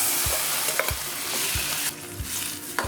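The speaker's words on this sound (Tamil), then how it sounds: "இந்த வெந்துக்கிட்டு இருக்க தக்காளி, பூண்டு, வெங்காயத்தோட இந்த கொள்ளுப்பருப்பு வேக வச்சுருக்கத இதை இப்போ இதில் ஊற்றுறோம்" Cooked horse gram is poured into a pan of sizzling tomato, garlic and onion for horse gram chutney; a steady close sizzle runs throughout, with regular soft spoon thuds from stirring.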